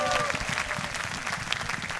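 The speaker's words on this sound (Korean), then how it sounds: "앞에 힘찬 영광의 박수로 돌려줍시다." A church congregation at a summer retreat's morning service applauds with dense, steady clapping that fills the whole moment without a break.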